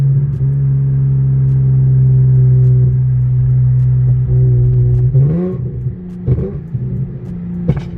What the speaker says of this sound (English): you can downshift and try to pop again